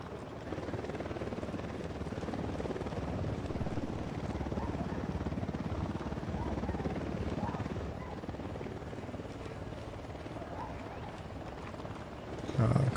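A helicopter's rotor in the video game Ghost Recon Wildlands drones steadily at moderate distance, a continuous chopping hum with a brief louder thump at the very end.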